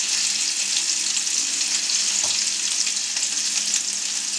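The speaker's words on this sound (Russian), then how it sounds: "А пока обжариваем крученочки." Meat rolls sizzling in a frying pan, a steady close crackle of hot fat with a brief stir or nudge partway through and no voices.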